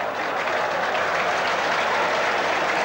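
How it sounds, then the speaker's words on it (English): Football crowd applause at a 1986 World Cup qualifier between Israel and Australia, a steady broad wash of clapping from a large stadium audience, continuous and moderately loud throughout. "Brings a round of applause from the crowd."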